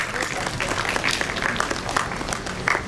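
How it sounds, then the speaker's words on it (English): Loud, lively applause from a school audience at an orientation day, continuous clapping with some voices mixed in throughout. "I guess we need to clap loud for them"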